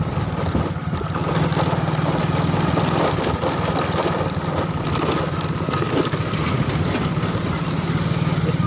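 A motorbike rides over a rough, badly broken road on a foggy morning near Biratnagar. The engine keeps up a steady drone, with rattling and clatter from the bumpy surface throughout.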